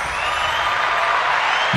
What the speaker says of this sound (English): Wow, I got an applause.